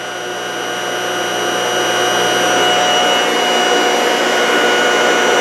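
Generator with a noisy stator running steadily, giving a loud, constant, slightly rising whine and hum with a continuous high-pitched tonal edge, no speech.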